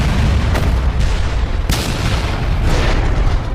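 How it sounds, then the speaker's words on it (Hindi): An explosion as a broken plane fan slams into the ground: loud booming blasts, with sharp bursts near the start, a stronger crack in the middle and another toward the end over a continuous deep rumble. "और एक भयानक विस्फोट हो गया।"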